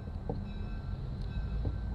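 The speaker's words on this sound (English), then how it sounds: "I got a little bit of train footage." A train rumbles past near the White River during a canoe trip, a steady low roar with faint clanks, heard from some distance without speech.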